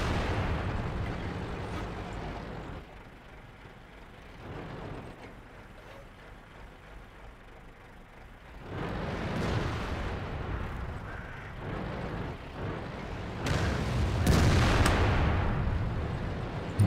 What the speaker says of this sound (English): Watch out for these artillery shots.